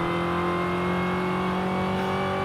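A supercharged V8 car in Forza Horizon 5 holds a loud, steady engine drone with a whining supercharger tone on top, heard from inside the cabin and close throughout.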